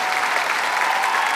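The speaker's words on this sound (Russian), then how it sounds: "Студия аплодирует стоя." A studio audience giving a standing ovation at a televised singing contest, dense steady applause filling a brief moment, loud and close.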